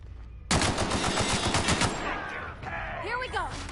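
Plasma rifle gunfire in The Outer Worlds, a loud burst of rapid automatic shots that starts abruptly and rattles on for over a second, then gives way to ringing electronic whines and game effects.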